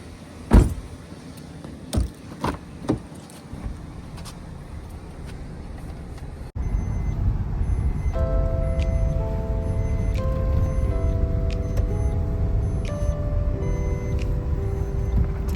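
A car is backed out: several door thumps, then the engine starts and runs close by while steady electronic reversing beeps repeat over its rumble.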